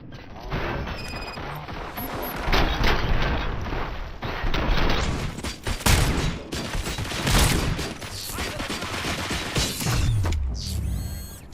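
Gunfire in RoboCop: Rogue City, a dense rolling barrage of shots mixed with mechanical clanks and crashes, loud and sustained across the scene.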